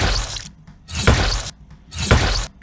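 Designed, layered sword stab effect: three sharp metallic impacts with gritty, shattering texture, each a dense burst with a short tail, spaced evenly and loud with no talk.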